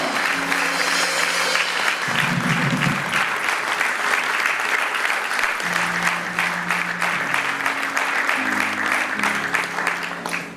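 A church assembly claps steadily and loudly for about ten seconds, a dense, even wash of applause from many hands, with some voices and low tones beneath it throughout.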